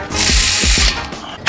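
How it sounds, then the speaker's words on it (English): A power ratchet snugs the lug nuts on an Audi S4 wheel with a loud, close mechanical whir and a few clicks that last about a second, then stops. "Power ratchet, snug these up."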